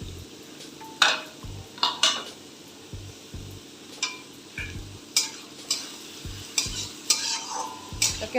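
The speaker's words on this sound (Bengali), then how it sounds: "হালকা ব্রাউন করতে দেবো পেঁয়াজটা আমাদের হালকা রং ধরেছে আর একটু ভেজে নেবো" Chopped onions frying in a pan for pav bhaji, a soft steady sizzle broken by repeated scraping and tapping of a utensil against the pan, roughly once a second.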